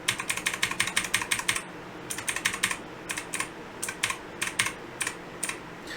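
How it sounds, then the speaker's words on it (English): Rapid clacking of the delete key on a Redragon K552 mechanical keyboard, a run of sharp taps, a brief pause, then more irregular presses, close and fairly quiet. "I'm just going to hit the delete key"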